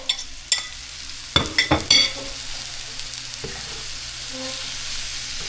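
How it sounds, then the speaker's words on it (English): Shallot and garlic go into a hot pan with mushrooms and are stirred; a few clattering stirs ring out near the start, then a steady, quiet sizzle continues on its own. "I'm going to go in with the shallot and garlic."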